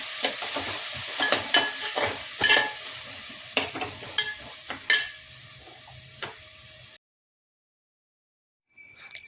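Chopped onions sizzle in hot sunflower oil in a home kitchen pan, a steady loud hiss broken by sharp crackles and scraping stir strokes, cutting off abruptly to silence near the end.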